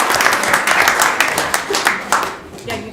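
Applause at a city council meeting, honoring the Civil Rights Team and the mock trial team: dense, steady clapping from a room full of people, loud and close, tapering slightly toward the end.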